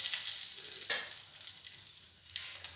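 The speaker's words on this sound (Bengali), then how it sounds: "এবার ওই তেলে দিয়ে দেব ফোড়ন। একটা শুকনো লঙ্কা 2 টুকরো করে নিয়েছি," A dried red chili broken in two crackles in hot oil, a soft close sizzle with a few sharper pops and a brief louder spurt.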